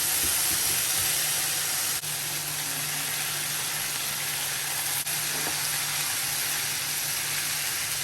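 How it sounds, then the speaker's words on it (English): Ingredients for a flaky corned beef pie filling sizzle in a frying pan, a steady close hiss of oil that holds evenly throughout, with no voices over it. "So I'll just fry this for about 2 minutes and then go in with my corned"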